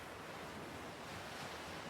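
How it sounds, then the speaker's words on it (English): Ocean waves washing in on a warm sandy shore, a soft continuous surf wash with a faint windy hiss, heard alone and fairly quiet. "every time you inhale, a wave comes up to touch your feet."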